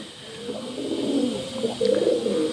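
An Andhra breed pigeon coos nearby in soft, low, rolling murmurs that swell and repeat over a quiet background.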